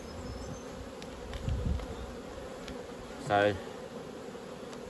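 Honeybees buzz around an opened hive brood box during spring management, a faint steady hum with one bee briefly droning close by, and a voice speaks a single word.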